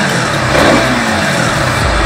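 A Husqvarna Svartpilen 200 motorcycle engine revs hard in supermoto mode, a loud, close, sustained high-rpm roar that holds steady for about two seconds with no voices.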